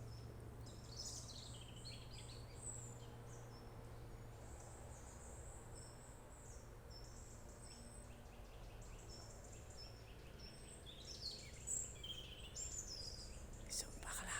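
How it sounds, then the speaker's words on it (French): Birdsong along a forest hiking trail at Saint-Martin-de-Seignanx, with scattered high chirps and short calls coming and going over a steady low hum and insect-like background. "Écoutez les oiseaux."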